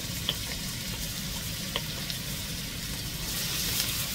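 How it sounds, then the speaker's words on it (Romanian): Garlic and grated ginger fry in oil in a pan over medium heat, giving a steady close sizzle with occasional small pops and crackles. "La foc mediu punem la prăjit usturoiul cu ghimbir ras."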